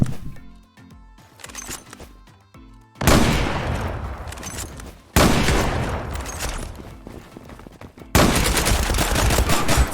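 Gunfire in the online shooter Zula, with rapid shots and sustained bursts of automatic fire that cut in and out in loud, dense volleys throughout; no speech.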